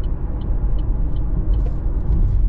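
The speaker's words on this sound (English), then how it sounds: "The engine feels like it's got plenty of power to get this vehicle up on the road." A 2024 Buick Envista Preferred SUV on the road gives a steady low rumble of engine and road noise heard from the cabin, with a few faint ticking sounds over it.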